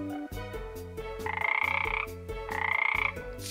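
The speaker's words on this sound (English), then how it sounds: "Frog." Frog croaks in two loud, rapid rattling bursts laid over a steady rhythmic background music track in an alphabet lesson, each burst lasting about a second with a pause between.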